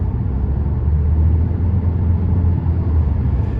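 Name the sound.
2017 Nissan Rogue S driving on road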